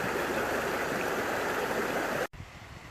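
Steady, loud rushing of the East Fork of the San Gabriel River flowing nearby, filling the whole clip as broadband water noise before cutting off abruptly near the end.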